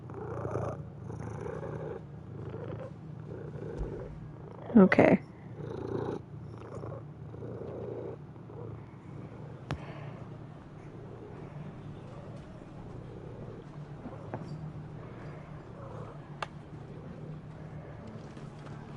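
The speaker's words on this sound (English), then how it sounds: "my cat is purring, and that is what you can hear right now" A close, low rumbling cat purr pulses steadily in soft rhythmic waves, with a brief muffled voice and light bumps partway through.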